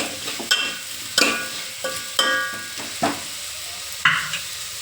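Bitter gourd stir-fry with jaggery being stirred in a pan, a series of sharp scraping and clinking spoon strokes roughly once a second over a soft sizzle, close by with no voices.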